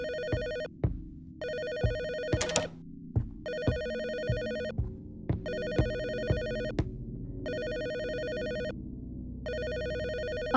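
A telephone rings repeatedly in a horror game apartment, with regular bursts of electronic ringing separated by short pauses, loud and close, accompanied by low thudding footsteps or movement underneath.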